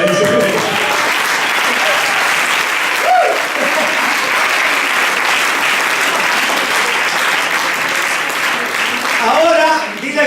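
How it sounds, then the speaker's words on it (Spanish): Sustained applause from a church congregation at a Sunday service, steady and dense across the whole stretch, with a voice briefly rising above the clapping near the start and again toward the end. "Denle un aplauso a eso."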